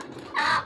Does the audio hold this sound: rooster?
yes